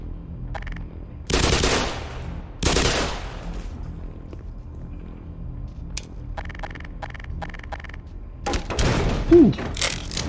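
Submachine gun fire in the Black Mesa video game: sharp, loud bursts ring out twice early and again near the end, separated by quieter stretches with faint mechanical clicks.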